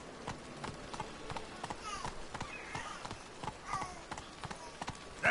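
Roach the horse in The Witcher galloping, a steady rhythmic run of hoofbeats striking the ground close by, moderately loud and continuous under light game ambience.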